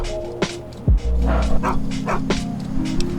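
A dog barking in Fallout 3: Point Lookout, a few close yips and barks over game ambience and music, with a low thump near the start.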